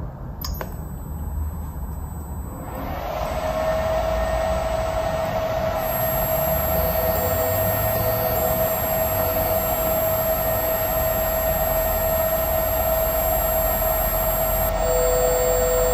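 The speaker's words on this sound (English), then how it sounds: "Be careful, the motor will run at high speed." An electric motor run by a Eura Drives E2100 series drive spins up to high speed during running auto-tuning. After a quiet start it becomes a steady, loud whirring hum with a faint high whine, sustained to the end.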